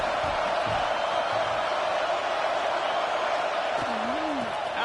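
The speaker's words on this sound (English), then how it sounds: "Decibels rising as the crowd gets behind this defense on 3rd down" Crowd noise at a football game swells into a dense, steady roar on a third-down defensive stand, loud and continuous throughout, with a brief whistle-like tone near the end and a commentator's voice faintly mixed in.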